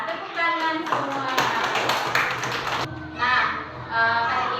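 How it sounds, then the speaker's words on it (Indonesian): Students in a classroom clap their hands in a brief burst of applause, with children's voices and a teacher speaking around the clapping. "tepuk tangan semua"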